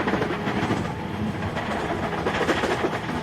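A train in the Roblox game Build a Train races along at high speed, giving a steady, continuous rumble with faint rhythmic clatter and no pauses.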